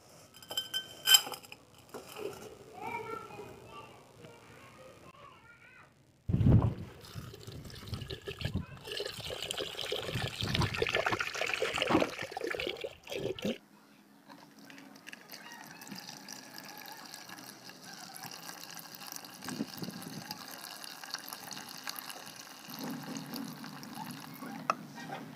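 Ground gold-plated wire scrap being washed in water, with liquid sloshing and trickling and metal bits clinking against a container, first sparse, then a loud busy stretch of churning, then a steadier watery rinse.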